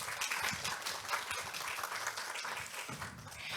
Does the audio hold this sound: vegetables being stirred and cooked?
no